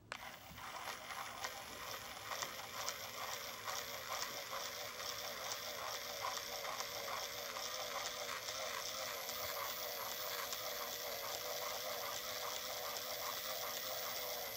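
A Conair Quick Wrap spinning thread onto a loc braid gives a fast, continuous mechanical whir with a faint rapid ratcheting texture, steady and close for the whole stretch with no talk.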